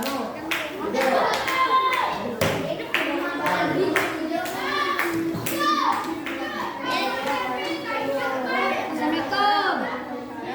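A classroom of children claps along in a geography lesson, short bursts of hand claps and taps mixed with lively kid chatter and a teacher's voice throughout.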